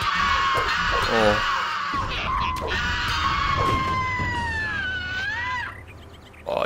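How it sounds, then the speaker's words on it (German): Shrill, warbling screams from creatures in Gothic 2 ring out continuously at close range, rising and falling in long sweeps before fading near the end, with someone talking over them. "Oh, die schreien aber rum"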